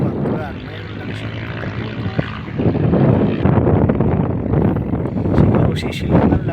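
Desert wind blows across red sand near Riyadh, a steady broadband roar of gusts buffeting the microphone, loud and continuous throughout.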